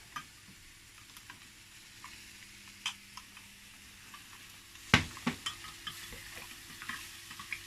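Tomato paste being stirred into a frying pork and mushroom sauce in a pan, with a soft steady sizzle under scattered utensil scrapes and a few sharper clinks midway, no talking.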